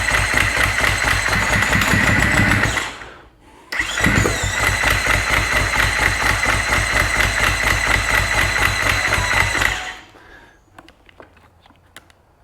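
A freshly rebuilt Husqvarna FC450 motorcycle engine fires up loudly and runs for a few seconds, cuts out, then restarts and idles steadily before shutting off, leaving quiet clicks.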